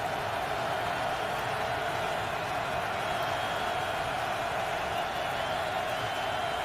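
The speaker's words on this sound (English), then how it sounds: "Crowd getting loud again." A steady roar from a packed football stadium crowd during the 2010 Chargers at Chiefs NFL game in Kansas City rises on third down, a continuous dense wash of noise with no break.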